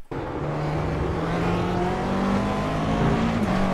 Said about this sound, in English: you shift up pretty quickly to second gear, that you have a stable rear and can accelerate pretty early on full throttle here